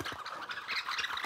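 A man's mouth imitates a flock of starlings, a dense run of squawking, chattering bird calls that fills the moment steadily without any talk.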